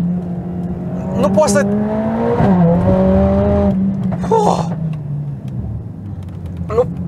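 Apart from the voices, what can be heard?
Mercedes-AMG A45 S engine revving while driving laps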